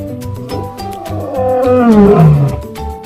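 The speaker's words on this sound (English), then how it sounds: "Lion." A lion roaring, a loud close rumbling growl that swells into a deep, drawn-out roar and then tails off, heard alone.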